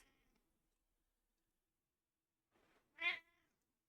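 A cat gives a single short, clear meow close by in a quiet room, after a few faint soft noises.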